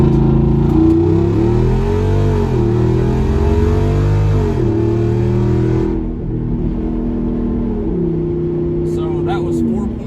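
A Jeep Wrangler Rubicon 392 V8 on 38-inch tires accelerates hard in four-wheel high, its engine roaring loudly with rising pitch sweeps and gear shifts heard from inside the cabin.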